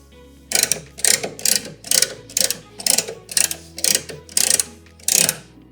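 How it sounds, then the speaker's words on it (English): Car jack raising a 2010-2024 Chevy Camaro during a spare tire install: about ten regular ratcheting clicks, one every half second, close and clear with no talking. "we're ready to lift the vehicle with the jack"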